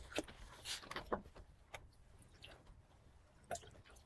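Soaked, spongy soy curls are drained of water, giving faint, scattered drips and small squishy splashes in a quiet kitchen.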